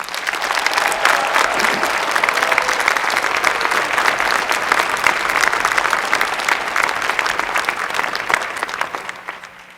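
Graduation ceremony crowd applauding doctoral degree recipients, dense sustained clapping from a large audience that holds steady for about nine seconds before fading out at the end.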